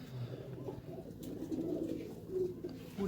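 A pigeon in a racing loft gives soft, low repeated coos close by, faint against a quiet background with no talk.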